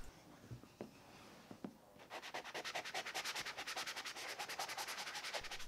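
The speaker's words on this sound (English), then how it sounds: "I can come back with a 180 grit sanding sponge and just sand it smooth." Rapid rhythmic scraping of a 180 grit sanding sponge rubbing back and forth over a baseboard surface, steady and close, after a few light taps.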